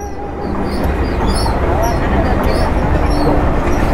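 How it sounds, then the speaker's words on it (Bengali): A long goods train rolls past near Nasipur bridge in Murshidabad: a loud, steady rumble with rail clatter that holds close and unbroken throughout. "মালগাড়ি এত বড় হয়"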